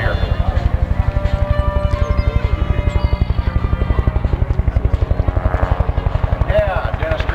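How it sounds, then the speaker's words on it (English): A Huey helicopter at an airshow passes nearby, its rotor giving a loud, rapid, steady blade-slap thump with engine whine throughout. "The distinctive sound of the Huey as she comes by for us."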